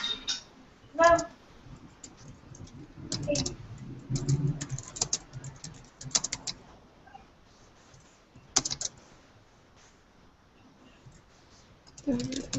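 Keys clatter on a computer keyboard in bursts during a group meeting, near and moderately loud, with quieter stretches between flurries of clicks.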